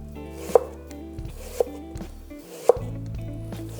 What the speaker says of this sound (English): we're going to do some thin slices of our apple